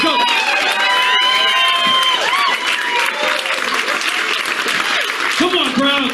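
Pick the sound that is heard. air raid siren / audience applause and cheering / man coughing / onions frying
audience applause and cheering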